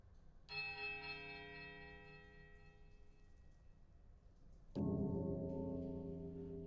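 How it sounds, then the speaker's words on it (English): A large iron bell in the video game Pillars of Eternity rings out with a deep, resonant stroke near the start and a second heavier strike near the end, each swelling into a long humming decay. "as it swings back and forth the other direction, the clapper strikes a low, powerful note with a heavy iron"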